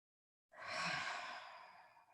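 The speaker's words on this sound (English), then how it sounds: "take a rest and breathe here." A single long, breathy exhale during a rest in a yoga session, starting abruptly after silence and fading out slowly, close and soft.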